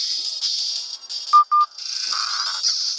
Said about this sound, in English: my phone is shouting at me because this battery is low